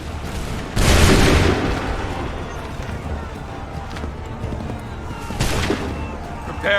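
Musket volleys go off in the Assassin's Creed 3 video game, with two loud booming bursts standing out from a constant rumble of battle noise.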